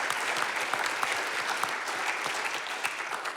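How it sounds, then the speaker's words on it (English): Steady applause from an audience honoring two departing Mesa city officials, a dense continuous patter of many hands clapping at moderate level with no voices over it. "Once again, a big round of applause for these gentlemen."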